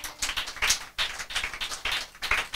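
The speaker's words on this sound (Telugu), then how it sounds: "గట్టిగా చప్పట్లు కొడతాం" Audience clapping together in a church service, a run of bright claps in loose repeated bursts, fairly close, with no talk over them.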